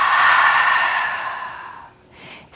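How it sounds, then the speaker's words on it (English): A long, complete exhale through an open mouth during a beginner morning yoga session, a steady breathy rush lasting about two seconds before fading, followed by a short quiet breath. "Open mouth. Exhale completely."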